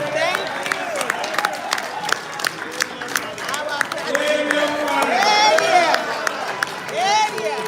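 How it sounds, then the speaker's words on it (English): An audience of Nigerians at a London gathering applauds, dense clapping and cheering rising and holding fairly loud, with babbling voices and shouts mixed in. "thank you for that round of applause"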